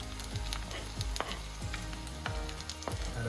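Pork pieces fry in hot oil as onions go into the pan, a dense steady sizzle with several sharp clinks and scrapes of a spoon turning the meat, close and busy throughout.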